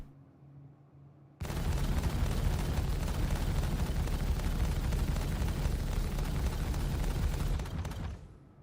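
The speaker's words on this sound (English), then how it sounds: "It's like Connie shooting at me now." A Constellation ship pours fire at the player in Star Citizen, a sudden loud onset of dense, continuous weapon fire that roars steadily for several seconds before cutting off near the end.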